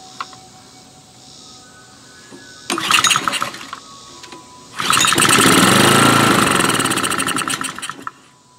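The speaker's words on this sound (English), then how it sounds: "Now to see if it'll fire with some gas through the air intake." A 5.5 HP Honda small gasoline engine under repair cranks briefly, pauses, then fires on gas poured into the air intake and runs with a loud, rapid sputtering roar for a few seconds before cutting out.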